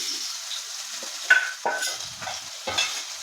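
Onions go into hot oil for a dried anchovy curry, and a steady hiss rises as they start to fry. A few sharp spoon scrapes against the pan come close by over the short stretch.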